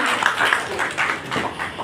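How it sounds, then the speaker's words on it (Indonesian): Audience applause at a band T-shirt merchandise launch event, a short burst of scattered clapping that rises and falls in uneven waves, close and fairly loud, with no speech. "Tepuk tangannya dulu dong, tepuk tangannya lagi teman-teman"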